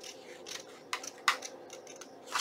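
Scissors snipping paper for a junk journal pocket, a few short crisp cuts at close range, quiet between snips.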